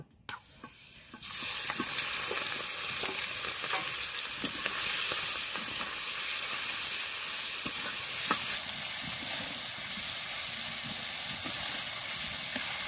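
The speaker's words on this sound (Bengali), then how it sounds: "তেল গরম হয়ে গেছে, এবার চিংড়ি মাছগুলো দিয়ে দেব।" Prawns dropped into hot oil in a heated wok burst into a loud, steady sizzle that holds without pause, with a few stirring clinks and no talking.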